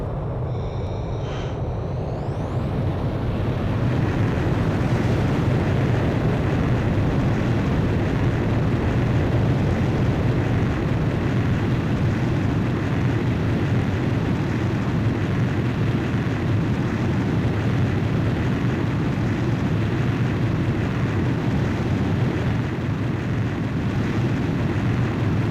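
A jet fighter's catapult launch from an aircraft carrier in Ace Combat 5, a steady, loud roaring engine rumble that builds early and holds throughout, with no speech.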